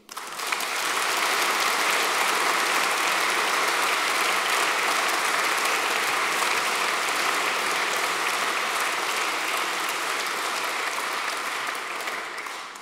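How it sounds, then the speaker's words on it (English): A large military dinner audience of the Corps of Royal Engineers breaks into dense, sustained applause after an award presentation, a loud even wash of many hands clapping for over twelve seconds before tapering slightly at the end. "Round of applause"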